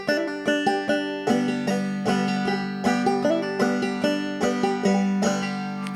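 A bright banjo picks a quick, rolling phrase, with repeated fast three-note pull-off figures in the melody, played up close with no voices.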